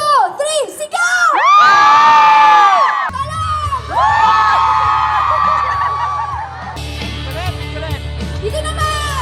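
A large crowd at a celebrity fan event in Dubai shouts and cheers loudly on cue, with high children's screams and whoops over a sustained roar, followed by music and continued cheering.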